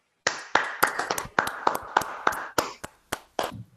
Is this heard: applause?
yes